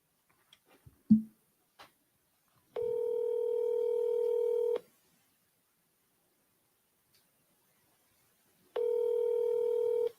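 A live phone call rings out: a few faint taps of dialing, then two long, steady ringback tones with a pause of silence between them.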